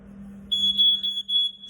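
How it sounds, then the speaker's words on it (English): A smoke alarm sounds loud and close, a piercing high electronic tone beeping in a steady pulsing pattern after a short low hum. "we learned the sound of fire safety from the smoke alarm"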